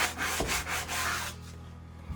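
Sanding on a wooden window sash, made of quick repeated rubbing strokes, close and fairly loud, that slow down and fade out after about a second and a half.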